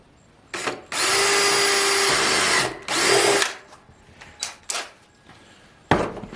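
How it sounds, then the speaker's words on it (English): A power drill bores into a plastic rain barrel in two sustained whining bursts of about two and three seconds, loud and close, followed by a few short knocks and clatters. "drill your first hole and then go back"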